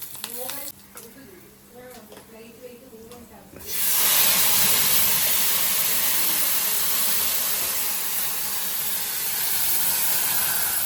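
Garlic hits hot oil for a tadka tempering a Palakkad white bean puli, a sudden loud hiss that bursts in after a quieter moment and keeps sizzling steadily to the end.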